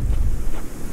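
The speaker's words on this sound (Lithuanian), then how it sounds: "Vėjas didžiausias." Strong wind buffets a microphone outdoors during fishing, a loud and continuous low rumble with gusty swells that fills the whole moment.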